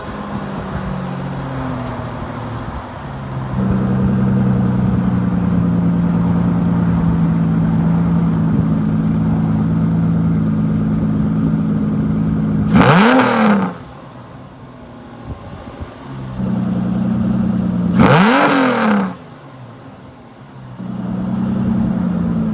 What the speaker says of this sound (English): Here's a black non-S Vanquish that we've just recently put the kit on, and we've got a little clip of it revving up also.